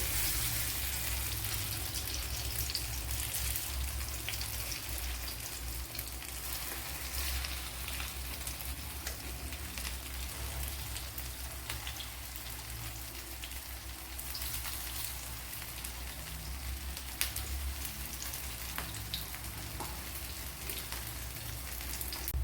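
Kerala-style evening snacks frying in a pan, a steady, even sizzle close by that runs without a break under faint kitchen noise, with no talk.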